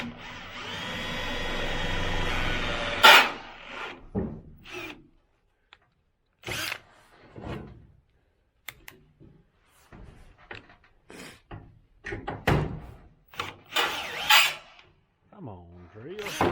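A power drill whines as it drives a screw into the roof of a wooden deer feeder, a long continuous run followed by short stop-start bursts, with someone talking between them.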